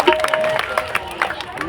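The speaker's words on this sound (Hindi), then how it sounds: "एक बार जोरदार ताली बजा दीजिए, जोरदार दीजिए, बधाइयाँ हो रही है।" A crowd claps at a Raslila performance at the Ram Janki temple, Piparsewa Dham, Morena, with scattered, uneven clapping mixed under a speaking voice and a sustained tone, moderately loud.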